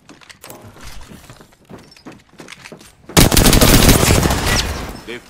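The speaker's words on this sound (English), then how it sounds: "They're firing on us." Gunfire in the video game Apex Legends: scattered shots in the first seconds, then a loud sustained burst of rapid automatic fire close by, with no talk.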